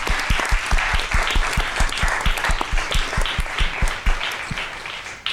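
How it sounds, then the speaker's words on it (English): Clapping fills the room at a school district governing board meeting, a lively round of applause with individual claps standing out near the microphone before it thins toward the end. "Let's give a round of applause for Mr. Noperi."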